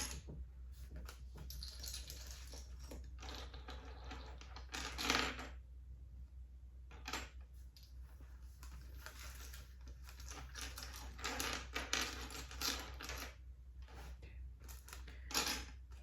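Lego pieces handled for ASMR, soft close clicking and rattling bursts with crinkly shuffling in between, quiet and intimate with no talk.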